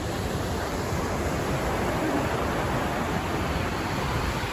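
Sea waves break on My Khe beach in Quang Ngai, a steady, loud, broadband wash of surf heard alone without a pause.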